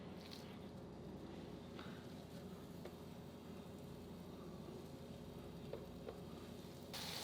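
Meatballs for a keto sour cream and mushroom dish sizzle steadily in a pan, a constant close frying hiss running unbroken throughout, with a few faint clicks and no talk.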